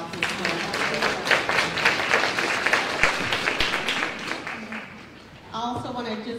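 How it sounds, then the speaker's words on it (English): An event audience gives a round of applause, clapping steadily for several seconds under some talking before fading, then a voice speaks near the end. "we want to just go ahead and give them a round of applause as well"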